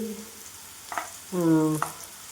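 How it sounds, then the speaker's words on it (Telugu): Chana dal, urad dal, cumin, mustard seeds, dried chillies and curry leaves fry in oil for a bitter gourd karam, with a soft sizzle and a couple of brief clinks and scrapes. A short tonal hum rises briefly in the middle. "పచ్చెనగపప్పు, మినప్పప్పు, జీలకర్ర, ఆవాలు, ఎండుమిరపకాయలు, కరివేపాకు ఇవన్నీ వేసి వేయించి"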